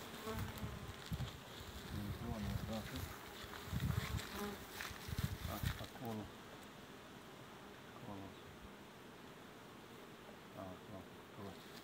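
Honeybees buzzing around swarm hives at an apiary, a dense, close hum that swells louder for a few seconds and then settles into a steadier, softer drone.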